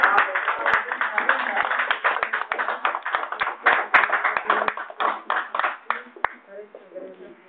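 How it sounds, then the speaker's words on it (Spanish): Audience applause at a Spanish-language gathering, a brisk crowd clapping that is loud and steady at first, then thins into scattered claps before fading out, with a voice blending in beneath it. "Un aplauso."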